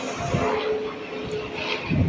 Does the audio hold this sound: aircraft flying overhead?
yes